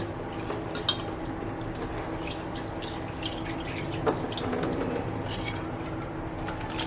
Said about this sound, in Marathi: एक दोन तीन वेळा धुवून घ्यायची मच्छी